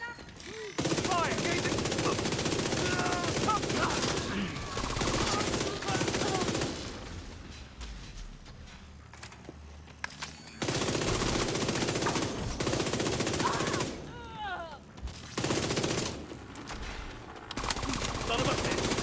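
A video game turret fires in rapid machine-gun bursts that stop and start, loud bursts separated by quieter gaps, with a player's voice talking over parts of it.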